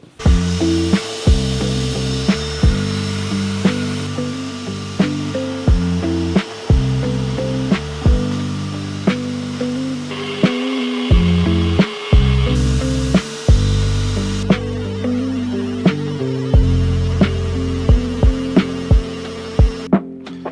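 A 1600-watt cutter, a 2000-watt heat gun and a 1250-watt vacuum cleaner run together from a portable power station, giving a loud, steady motor hum and whine with repeated sharp cutting and grinding bursts throughout.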